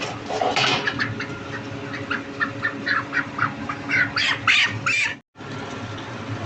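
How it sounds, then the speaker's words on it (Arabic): Broiler chickens about 35 days old fill a poultry house with dense, overlapping clucks and squawks, a steady close flock chorus with no talk and a brief cut near the end. "الفراخ دي واكلة 3 كيلو علف"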